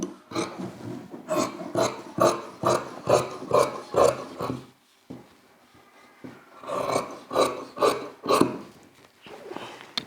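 Scissors snipping through shirt fabric along a chalk-marked shape during tailoring, a steady run of close, crisp cuts in two bursts with a short pause between.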